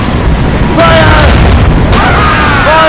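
Cannon broadsides from a sailing ship in Assassin's Creed Rogue, two distinct loud booms about a second apart, each with a rumbling tail, over steady sea noise and faint shouting.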